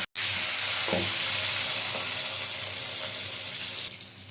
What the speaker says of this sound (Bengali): এক পিঠ হয়ে গেছে মাছগুলো আর এক পিঠ ভেজে নিচ্ছি